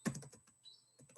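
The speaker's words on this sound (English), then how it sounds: "I had to be quite careful when I was typing that." Fingers tap on a computer keyboard in a quick, uneven run of soft, close clicks with a short pause in the middle.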